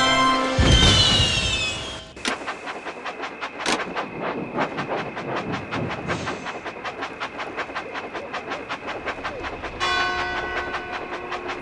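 A toy train rolls along its tracks in the video game Thomas & Friends: Magical Tracks, with steady clickety-clack rhythm, chuffing, a whistle blast and bright chime-like game tones over the running sound.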